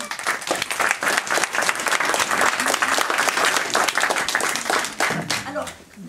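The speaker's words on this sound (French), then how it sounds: "on les applaudit." An audience claps loudly and steadily for schoolchildren at a heritage day presentation, dense applause sustained close by throughout, with voices mixed in and the clapping thinning near the end.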